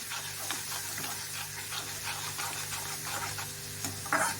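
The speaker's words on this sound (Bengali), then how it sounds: "আঁচটা একটু বাড়িয়ে দেব মশলাটাকে কষানোর জন্য" Spice paste fries and is stirred in a pan over raised heat, a steady sizzle broken by repeated scraping strokes of the spoon, fairly close and continuous with no one speaking.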